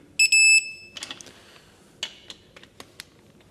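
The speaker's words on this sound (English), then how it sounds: "So we're going to go till this beeps." A short, bright electronic beep from a torque wrench signals the set torque on an engine bolt during engine assembly, followed by small metallic clicks and ticks of tool handling.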